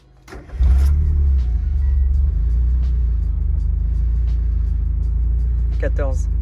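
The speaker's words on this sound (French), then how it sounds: "Je vais démarrer la voiture." A Mazda Miata engine cranks and catches, then settles into a loud, steady rumbling idle with a slight rev, heard close up; brief voices break in near the end.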